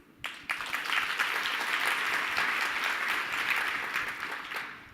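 Sustained audience applause at a neurology conference plenary panel, starting abruptly after a brief pause and holding steady and dense for several seconds before tapering slightly at the end, with no talk over it.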